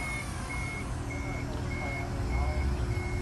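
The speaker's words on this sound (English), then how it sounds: "and again we're going to wait for a double beep" Beeps from a wheelchair lift on a Toyota Hiace van, sounding as evenly spaced high electronic tones over a steady mechanical hum, with a voice speaking over them.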